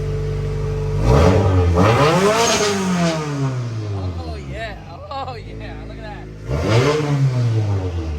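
A widebody Subaru WRX engine revs in several rising and falling bursts, loud and close, with someone talking excitedly over the revs.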